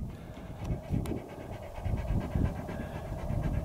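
A dog pants rapidly and steadily close to the microphone outdoors at a desert campsite in Death Valley, with no voices.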